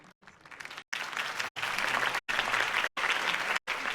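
Crowd applauding after a campaign speech by Harvey Dent in the Telltale Batman video game, a steady wash of clapping broken by several brief, abrupt silences.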